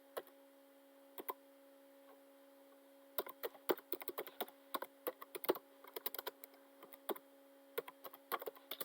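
Rapid bursts of typing on a computer keyboard: crisp clicks in short clusters with brief pauses, fairly close and quiet over a faint steady electrical hum, with no talk.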